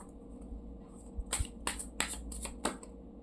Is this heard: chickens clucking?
no